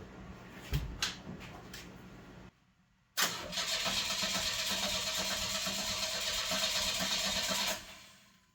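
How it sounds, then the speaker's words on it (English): A car engine cranks in a few quick bursts, pauses, then catches and roars into a steady, loud running idle that cuts off near the end. "we're going to go ahead and see if it turns over"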